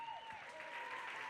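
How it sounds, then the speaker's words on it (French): Applause rises from spectators at a pony show-jumping prize-giving, a brief, fairly faint patter of clapping heard from a distance, with a whistle-like tone sliding over it. "Vous pouvez les applaudir bien fort."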